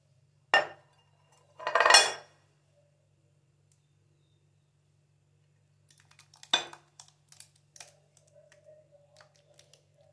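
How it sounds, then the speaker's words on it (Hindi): Mango dessert being spooned into a serving bowl, a couple of sharp clinks and a scrape near the start, then a run of lighter scattered taps and clinks after a pause, close and otherwise quiet. "तो मिक्स करने के बाद अब हम इसको सर्विंग बाउल में डाल लेंगे"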